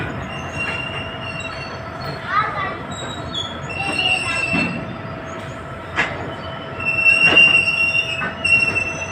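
A train rumbles steadily along the tracks at Bhagat Ki Kothi railway station in Jodhpur, with high metallic wheel squeals rising now and then, louder toward the end.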